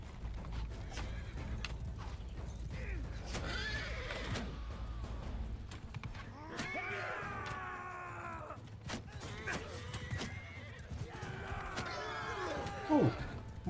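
In the video game Mount & Blade II: Bannerlord, a horse whinnies several times in drawn-out, wavering neighs over a low rumble of game background noise.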